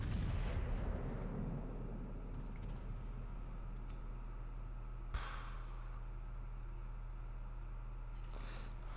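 Naval 16-inch guns fire in World of Warships, a heavy booming blast at the start followed by rumbling decay, with two later sharp, fainter reports over a low steady hum.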